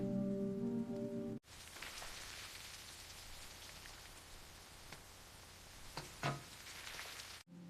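Heavy rain falling at night, a dense steady hiss of drops hitting surfaces with occasional louder splatters, preceded by a brief burst of music-like tones that cuts off abruptly.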